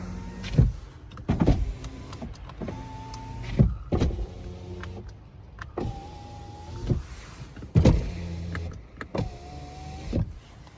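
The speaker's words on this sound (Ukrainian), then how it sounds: "Давайте випробуємо склопіднімачі." Power windows on a Skoda Superb plug-in hybrid whir up and down several times in a row, each motor run ending with a thunk, separated by short pauses.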